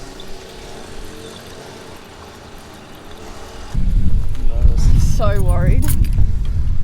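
A Nissan TD42 turbo diesel engine with a new turbo cranks and catches partway through, then runs loud and rough with a deep rumble while people talk over it.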